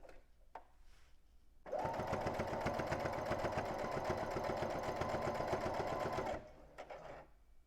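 A sewing machine stitches fabric for reusable makeup remover pads, a steady close mechanical whir with rapid needle rhythm running for several seconds before stopping, with quiet handling sounds around it.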